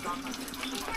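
Cool water runs steadily from a tap at a cooking spot, a soft continuous gush heard close by and fairly faint, ending with a brief louder knock.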